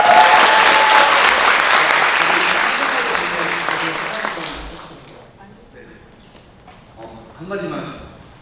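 Wedding guests applaud loudly in a hall for a wedding song performer, the clapping fading out over several seconds before a few scattered sounds and a brief voice.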